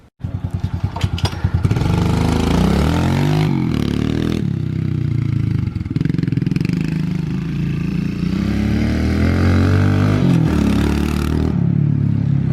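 A small pit bike engine starts, then roars loud and close in a steady high-pitched drone, with rev swells and brief dips as the rider moves past. The buzz continues throughout.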